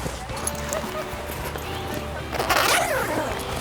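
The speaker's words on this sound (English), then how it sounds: "Nice smooth zippers." Smooth zippers are pulled along an inflatable SUP paddle board carry bag with padded straps, a quick rasping zip that swells near the end, heard close up over faint room noise.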